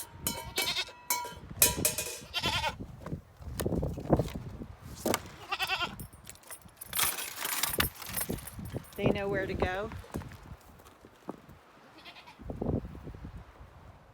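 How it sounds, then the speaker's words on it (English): Goats in a pen beside a house bleat a few times in short wavering calls amid close conversation, keys jangling and general handling noise, the animal voices intermittent and partly masked by talk. "Goats, they're in the pen by the house."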